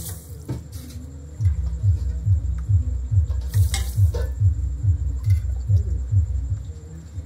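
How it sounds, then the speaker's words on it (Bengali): A ladle stirs sugar into water in a pot while making rasmalai, a dull rhythmic scrape repeating about twice per second under a low hum, with a few louder clanks of metal against the vessel. "আমি একটা হাতার সাহায্যে চিনিটাকে এই জলের সঙ্গে খুব ভালোভাবে মিশিয়ে দিয়েছি"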